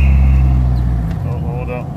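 A Honda Civic EG rolls along a road with a steady low engine drone that starts out strong and eases slightly, with voices talking over it.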